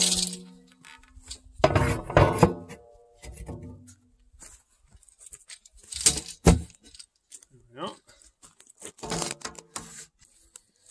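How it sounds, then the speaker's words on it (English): Metal lid being forced onto a biochar container, with bursts of clanking, scraping and rattling metal separated by quiet gaps, close by, and someone talking between the clatter. "let's try and manhandle this lid on here"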